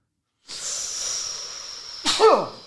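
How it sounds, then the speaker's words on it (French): A single person sneezes close by, starting with a drawn-in breathy hiss and ending in a sharp, loud burst. "J'ai juste éternué."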